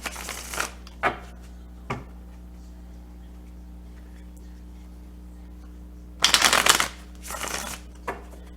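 Tarot cards being shuffled hand to hand in several short riffling bursts separated by quiet pauses, with a longer flurry near the end.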